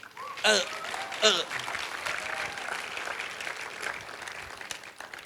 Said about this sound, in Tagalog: Parang mahina po yung palakpak ng iba.